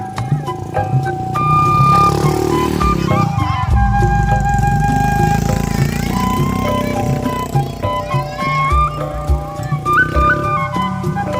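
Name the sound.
motorcycle passing by in a village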